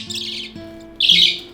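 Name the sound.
budgie chick squawking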